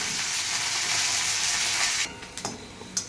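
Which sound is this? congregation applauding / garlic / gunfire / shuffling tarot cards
garlic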